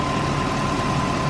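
A car engine idles steadily after Seafoam has been added, a continuous low rumble with a faint steady whine, close and unchanging, with no voices.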